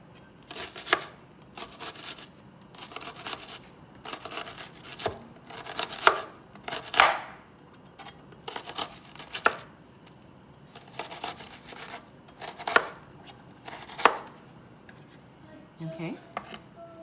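Mushrooms sliced with a knife on a cutting board, irregular crisp cuts and taps coming in bursts over several seconds, close with quiet gaps between.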